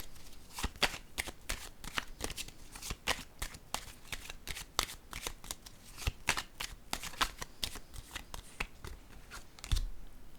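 Tarot cards shuffled by hand nearby, a long run of quick crisp riffling snaps and soft slaps in an uneven rhythm, clear and alone without talk.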